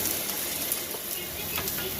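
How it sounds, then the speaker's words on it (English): Onions fry in a pan toward golden brown, a dense steady sizzle with faint crackles and a quick stirring scrape, close and continuous with no talk. "I'm cooking it until it gets golden brown"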